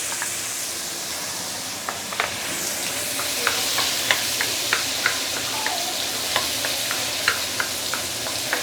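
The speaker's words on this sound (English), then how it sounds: "I'm going to add in some chopped tomatoes" Chopped tomatoes stir-fry in a hot wok for a vegetable curry, producing a loud continuous sizzle and hiss broken by regular scraping clicks from a spatula, close up and without talk.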